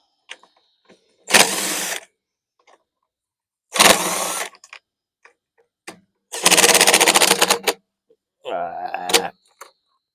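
A DeWalt power tool works at a stud on a Honda Quadra Cut lawn mower, giving four separate loud mechanical bursts of one to two seconds each, separated by quiet gaps with faint clinks.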